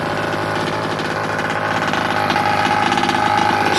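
A small nitro engine in a Super Bee Killer RC car idles steadily during heat cycles, a loud, continuous buzzing drone with a fast regular pulse and no pauses.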